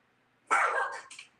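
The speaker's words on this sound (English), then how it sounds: "It's like he's over here barking at the peacock." A single sharp, fairly close dog bark, a short burst followed by a couple of quick softer trailing yips in otherwise quiet surroundings.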